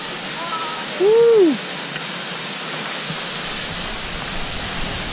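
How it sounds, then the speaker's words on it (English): A big waterfall at Malibu spilling toward the ocean gives a steady broadband roar throughout, close and constant, with a single short excited shout from a person near the start. "We made it to our destination point, which is a big, giant waterfall."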